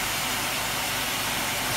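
A steam carpet cleaning machine hisses hard and continuously at close range, a dense high-heat rush of steam with a faint mechanical hum underneath.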